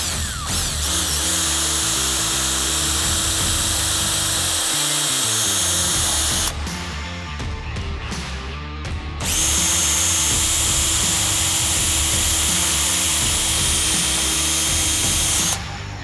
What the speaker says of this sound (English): Now you can just pilot drill the hole and put the fixings in.